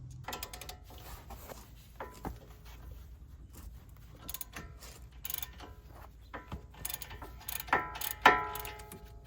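Ratchet wrench loosening the 17mm brake caliper bolts on a Toyota Prius XLE during a front pad and rotor change; scattered quiet ticks and clicks, close by, with a louder metallic clatter near the end.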